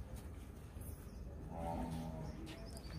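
A Kutch buffalo lets out a low, drawn-out moo at milking time on a farm, with faint background noise and bird calls.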